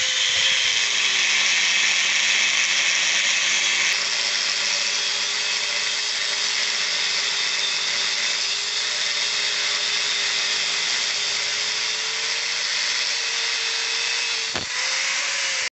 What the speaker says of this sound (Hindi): इसके बाद इसको हम ग्राइंडर से तिरछा करके काट रहा हूँ